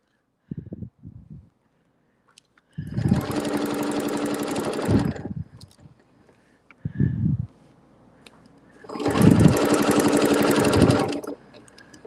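A sewing machine stitches fabric for a feathered circle quilting design, running in two steady, loud bursts of several seconds each with a pause and a few soft knocks between them.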